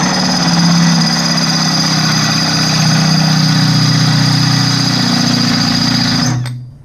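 Power drill with a 9/16 bit boring into brake parts on an ATSV, a loud steady motor whine with a heavy grinding drone that runs unbroken for about six seconds, then cuts off abruptly.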